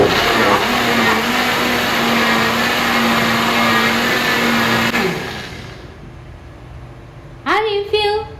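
A Solomon electric blender grinds peppers for a red pap and moi moi mix, a loud steady motor whine for about five seconds before it winds down and stops, followed by a brief voice near the end.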